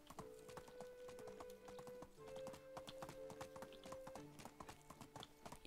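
A horse being ridden in Medieval Dynasty, its hooves clip-clopping in a quick, steady rhythm of close, crisp beats over a faint tonal background.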